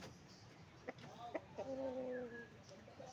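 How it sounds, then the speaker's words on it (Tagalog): A chicken clucks a few times nearby, short throaty calls rising into a drawn-out cluck, over faint outdoor background. "Yun pala yung aming manok, guys"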